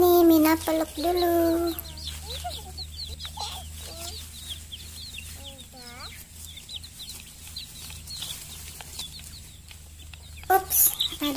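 Hens cluck and chirp in short bursts nearby, with a louder squawk at the start and end over steady low background hum.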